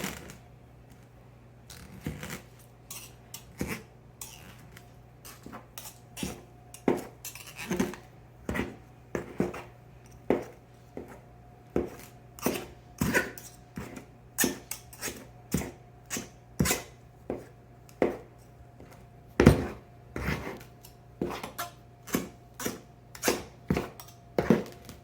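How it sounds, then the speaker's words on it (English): Two knives chopping lard into flour for pie pastry, a steady run of sharp, close clicks and taps against a bowl, repeating in quick irregular rhythm for the whole stretch with no talking. "So you just cut the lard up with your 2 knives. You make crisscrossing motions into your lard,"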